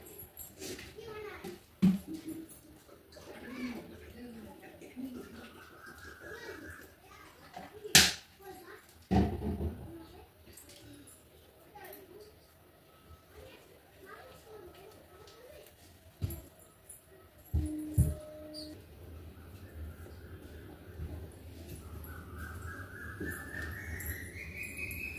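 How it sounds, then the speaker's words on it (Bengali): An Asian koel calls outside a home in the morning, its rising, repeated notes coming from some distance twice during the stretch, over quiet household background with occasional knocks and soft indoor sounds. "বাইরে কি সুন্দর কোকিল ডাকছে।"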